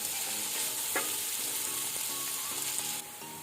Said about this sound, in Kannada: ಈಗ ಈರುಳ್ಳಿಯನ್ನು ನಾವು ಒಳ್ಳೆ ರೀತಿ ಬ್ರೌನ್ ಆಗುವ ತನಕ ಮೀಡಿಯಂ ಟು ಹೈ ಫ್ಲೇಮ್ ಅಲ್ಲಿ ಫ್ರೈ ಮಾಡ್ಕೊಳ್ಬೇಕು